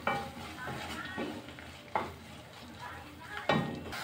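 A spoon stirs tomatoes and cumin in a simmering cooking pot, producing soft scraping swishes with three or four distinct strokes over a low sizzle, close and moderately quiet, with no talking.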